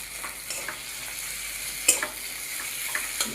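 Eggs stir-fried for Bengali egg bhujia give a steady sizzle in a pan, broken by a few sharp scraping and stirring clicks, one louder clack near the middle.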